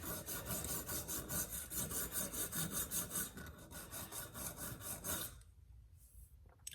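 A file rasps back and forth over the steel reed of an antique jaw harp to remove a burr, steady rhythmic close strokes repeating about twice a second, then slowing and fading near the end.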